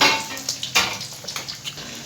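Fried kebabs dropped back into hot desi ghee while making Lahori hareesa, giving a series of sharp metallic clinks and clatters against the pan with a light sizzle, close and irregular, without speech.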